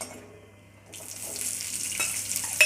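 Curry leaves dropped into hot oil for a tamarind curry, a quiet pan at first that breaks into a steady bright sizzle and spatter, growing louder toward the end.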